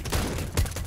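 Two shotgun blasts boom in CS:GO gameplay about half a second apart, loud and close, with no talk.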